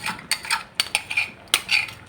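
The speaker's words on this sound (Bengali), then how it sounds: "জিরে বাটাটা কিন্তু দেওয়া বাকি ছিল, তো এইটা দিয়েই কিন্তু খুবই সুন্দর করে নাড়াচাড়া করে" A spoon scrapes and clinks in a pan while egg curry is stirred with cumin paste, giving a run of quick, fairly loud metallic taps and scrapes at an irregular rhythm, close by and without voices.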